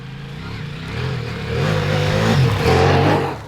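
Ducati Multistrada V4 Rally motorcycle with a 1158cc V4 engine, running loud and close with a rising throaty drone that builds in revs over a few seconds before cutting off.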